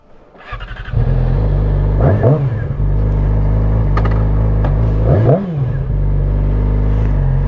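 A motorcycle riding through town drones loudly and steadily up close, its engine pitch rising and falling twice as it revs and shifts, with wind noise around it.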